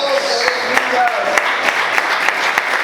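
A church congregation applauds during an evening sermon, with steady clapping at close range and a voice carrying over it.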